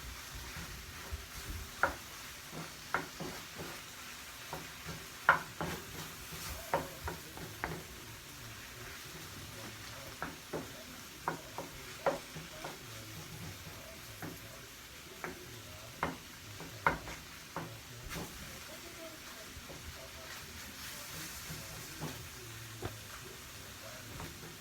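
Sausage for sausage and shrimp creole fries in a pot, giving a quiet, steady sizzle punctuated by irregular light clicks and scrapes of stirring.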